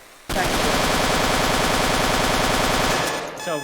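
A heavy machine gun in the game RMC-14 fires a loud, continuous rapid burst for about three seconds until it overheats, then cuts off with a few mechanical clicks.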